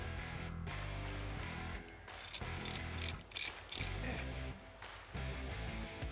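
A ratchet tightens bolts on a budget marketplace chopper motorcycle build, clicking steadily in close quarters over a dense background music bed, with brief louder bursts toward the middle.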